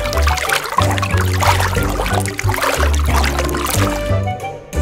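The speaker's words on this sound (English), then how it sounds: "That sounds like water splashes." Water splashing and pouring in a children's toy train adventure, loud and close, with busy splashy bursts over a backdrop of repeating low musical tones.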